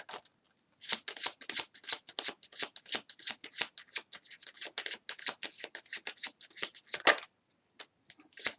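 Tarot cards being shuffled by hand, a fast run of crisp riffling flutters and soft slaps repeating close up for several seconds, with a brief pause near the end before a few final taps.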